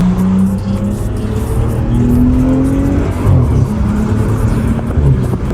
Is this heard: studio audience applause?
no